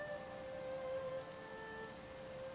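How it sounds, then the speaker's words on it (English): Steady, soft rainfall in the game Zelda: Tears of the Kingdom, a continuous hiss of rain, with faint sustained musical tones over it and no talking. "Is it gonna stop raining?"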